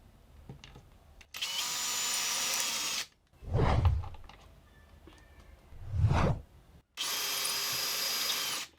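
Two bursts of a power drill whirring steadily as it drills hinge holes in a wooden cabinet through a drilling template, separated by low swooshing handling noises, close and loud.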